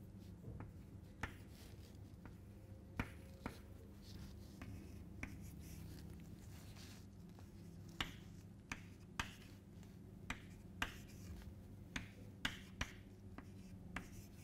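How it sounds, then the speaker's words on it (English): Numbers written by hand during a maths lecture, a steady scratch with scattered sharp taps of the pen against the surface, quiet and close, with no talk over it. "we will just write the numbers down"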